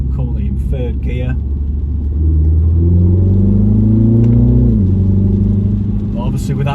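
A Mini Cooper JCW turbo engine droning in third gear, a loud steady rumble that rises in pitch as it pulls, then drops away, heard from inside the car.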